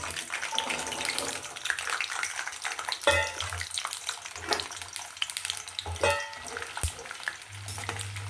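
Ingredients for a gooseberry pickle fry in hot oil, giving a continuous crackling sizzle with intermittent stirring scrapes and knocks of a utensil against the pan, close and steady throughout.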